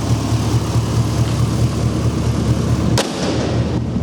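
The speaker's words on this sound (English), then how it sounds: "what kind of exhaust we have on here, but it sounds pretty good" A GMC Sierra 1500 Custom pickup's engine and exhaust idle steadily, a close, even low rumble with a rhythmic pulse, briefly broken by a sharp transient near the end.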